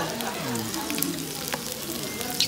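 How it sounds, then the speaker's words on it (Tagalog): A hotpot with bacon bubbles and sizzles on the heat, a soft close crackle of simmering liquid with a few faint clinks. "Ito na kumukulo-kulo pa."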